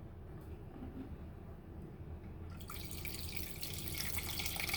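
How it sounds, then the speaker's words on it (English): Filtered water poured into a bowl of yogurt, quiet at first, then a steady, fairly soft splashing rush that starts about halfway through and builds slightly to the end. "then we're going to add some water."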